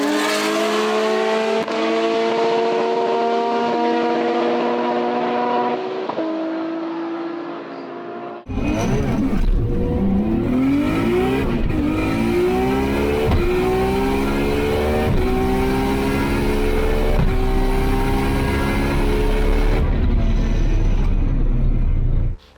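Nissan Skyline R32 GT-R with RB32 engine and Garrett G45-1500 turbo at a drag strip, a loud engine held high on the line, then a launch with rising gear-by-gear revs, a brief bog, and hard acceleration through shifts.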